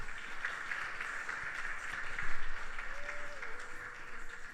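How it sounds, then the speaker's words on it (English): Audience applause at a Krishna Mandir anniversary service, a soft, distant wash of clapping that swells briefly in the middle and stays low and diffuse, with a faint tonal sound passing near the end. "Please give her a round of applause once more."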